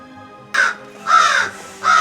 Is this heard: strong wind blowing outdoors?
no